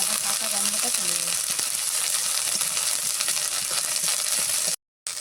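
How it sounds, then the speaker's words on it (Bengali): Ginger paste frying in a pan, a dense continuous sizzle heard close up with a brief hum near the start and a short dropout near the end. "আদাটাকে খুব ভালোভাবে আগে কষিয়ে নেব, তাহলে আদা কাঁচা গন্ধটা চলে যাবে।"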